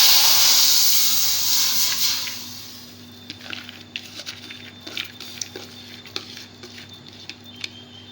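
Lentils (dal) hit a hot pan with a loud burst of steamy sizzling hiss that fades over a few seconds into scattered soft pops and crackles.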